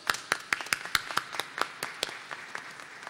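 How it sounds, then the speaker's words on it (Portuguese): Applause at a solemn medal ceremony, a handful of distinct, fairly close hand claps in an uneven rhythm that gradually thin out and fade, with no one speaking. "temos que aplaudir a primeira-dama desse evento"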